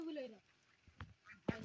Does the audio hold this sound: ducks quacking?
yes